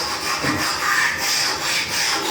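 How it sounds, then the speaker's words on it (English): A scraper drags across the old finish on a wooden drawer front in close, loud, rasping strokes, with steady repeated pulls and no talking. "scrape the bulk of the finish off of this thing so that I find doing that really saves on the sandpaper"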